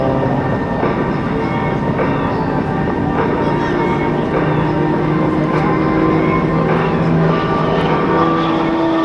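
An Extra 300L aerobatic airplane flying at the 2005 NAS Oceana Airshow, a loud, constant propeller-engine drone with slowly shifting pitch that fills the whole stretch, with faint crowd voices blended underneath.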